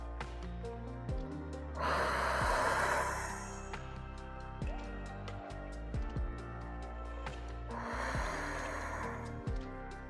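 Two slow, deep breaths, each a long audible exhale rushing out, separated by quiet pauses over soft background music.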